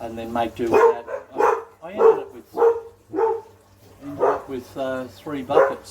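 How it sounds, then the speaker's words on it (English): Several household dogs bark repeatedly in short bursts, mixed in with someone talking throughout, the yaps rising and falling close to the microphone. "Excuse my dogs."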